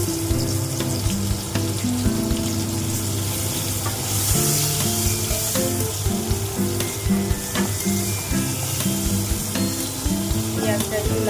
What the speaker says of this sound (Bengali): পেঁয়াজটা একটু লাল লাল হয়ে আসবে, ততক্ষণ আমি ভাজবো।